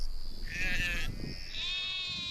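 Red Maasai sheep bleat twice, a loud wavering call followed by a second, steadier bleat close by, with faint rustling in between and no talk.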